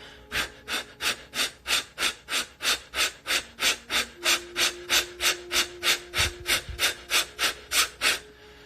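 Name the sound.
breath of fire breathing exercise, forceful exhales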